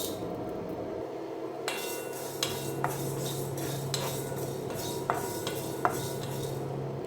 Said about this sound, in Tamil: இதுலேயே வெந்தயத்தை போட்டு வறுத்துக்கலாம்.